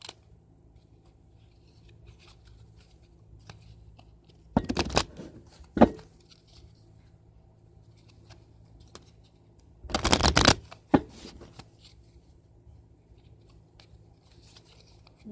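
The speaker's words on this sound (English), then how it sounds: "let's pull some cards" Tarot cards are shuffled in two short riffling bursts, each ending with a sharp tap, close and clear against an otherwise quiet room.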